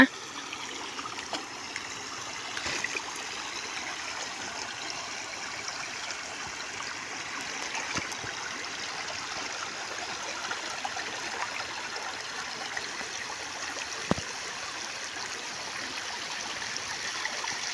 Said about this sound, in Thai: น้ำไหลผ่านถนนทางมานา